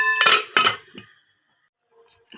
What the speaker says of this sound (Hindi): रखूँगी मैं ढक्कन।